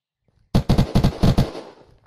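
Rapid burst of gunfire in the video game Unturned, about six loud close shots in quick succession after a brief pause, ending in a fading echo tail.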